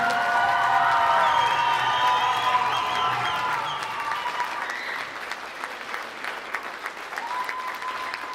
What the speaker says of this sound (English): Big round of applause for Damon Khristofer right now.